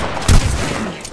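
Gunfire in a squad-based battle royale shooter game, a short loud burst of shots with a sharp close onset that quickly fades.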